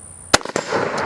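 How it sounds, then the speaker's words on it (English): .303 rifle fired once, a sharp, loud crack followed by a quick echo and fading rumble from the range, after a brief faint tone beforehand. "Let's go ahead and fire around."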